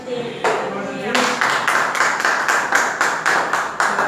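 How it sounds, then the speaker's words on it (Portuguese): A church congregation claps together in steady, even rhythmic bursts, loud and close, filling the room for several seconds. "As palmas do Senhor."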